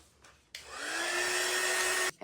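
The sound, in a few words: hair dryer drying stencil paint on can coozie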